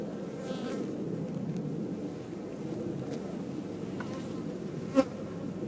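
Honeybees hum steadily around an open brood frame pulled from a busy hive outdoors, a close, continuous low buzz with a faint click near the end and no talking.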